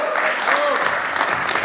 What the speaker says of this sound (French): Qu'on l'applaudisse très très fort.